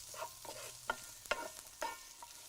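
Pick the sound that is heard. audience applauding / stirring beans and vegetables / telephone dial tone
stirring beans and vegetables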